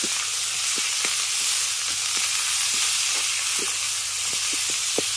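Ginger-garlic and onion paste with fried dried chilli sizzles steadily in hot oil in a pan, a constant close frying hiss with faint stirring taps.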